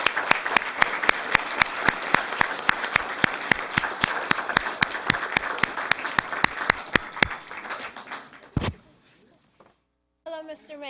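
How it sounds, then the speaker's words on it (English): Applause from the audience at a city council meeting honoring a high school student, a loud sustained burst of many hands with sharp individual claps, fading out with a brief voice near the end. "Applaud for Gail."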